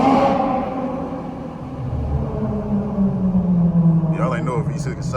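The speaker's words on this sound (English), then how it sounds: "Y'all wanna hear some downshifts?" Dodge Charger V6 engine downshifting in Atlanta traffic, heard from inside the car: a rising and falling engine drone with shifting tones and a low rumble, with some overlapping noise near the end.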